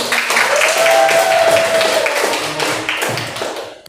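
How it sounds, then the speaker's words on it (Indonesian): A classroom group of teachers claps steadily in a dense, even burst of applause lasting a few seconds before tapering off. "Tepuk tangan dulu."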